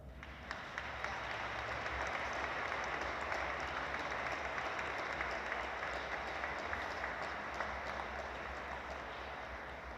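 Sustained applause from a church congregation at a Sunday Mass in a village parish, honoring the priest; a steady, dense wash of clapping fills the whole stretch at moderate loudness without talk.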